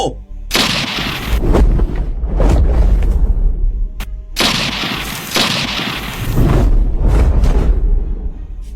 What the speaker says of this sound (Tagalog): Malulutong na putok ng baril ang pinakawala ng mga kidnapper sa aswang na humarang sa kanila.